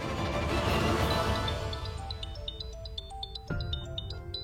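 A phone rings in a French-language drama series, with a melodic electronic ring tone that repeats in a steady pattern as earlier background music fades.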